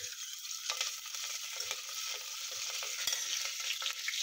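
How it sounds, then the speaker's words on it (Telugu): A tempering of mustard seeds, cumin, chana and urad dal, green chili, curry leaves and asafoetida crackles and hisses in hot oil, quiet close sizzling with light stirring scrapes. "ఈ పోపు బాగా వేగిపోయింది."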